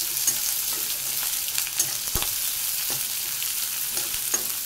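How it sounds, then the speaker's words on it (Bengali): Chopped onion frying in hot tempering oil as it is stirred, a continuous bright sizzle broken by sharp clicks and scrapes of a spoon against the pan, close and steady, no voices. "এবারে পেঁয়াজ কুচি দিলাম, নাড়বো, সিম অফ করে নাড়ব।"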